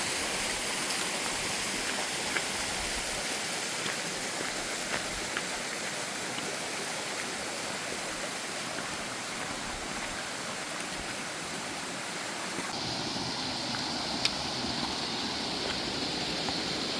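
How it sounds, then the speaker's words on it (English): A brook flows past a trail crossing on the Mount Lafayette hike, giving off a continuous, even wash of rushing water close by, with small splashes and a slight shift in tone near the end. "And here's another crossing of the brook."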